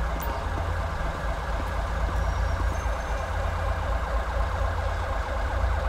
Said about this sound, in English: We're going to get an ambulance out here.